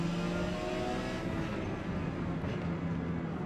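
Porsche 956 race car in Forza Motorsport at Hockenheimring, giving a loud, continuous engine drone with layered harmonic tones and a slight pitch dip as it downshifts toward a tight hairpin.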